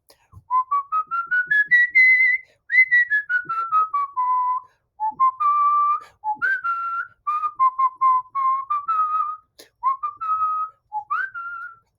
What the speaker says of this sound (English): I can whistle all kinds of things